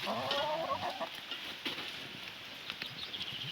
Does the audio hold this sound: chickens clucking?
yes